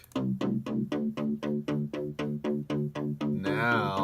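Staccato synth bass line in an 80s pop production, about a dozen evenly spaced punchy plucked notes in a steady rhythm, loud and upfront, ending in a brighter sustained tone.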